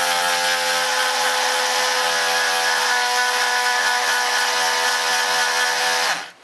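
A chainsaw chain is sharpened on a grinder, giving a steady, close, high-pitched grinding whine that runs for about six seconds and then cuts off.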